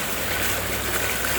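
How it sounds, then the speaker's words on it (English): A waterfall in a park in Independence, Oregon, pouring as a steady, dense broadband rush of falling water, close and continuous, with no voices over it. "this is the beautiful, famous waterfall"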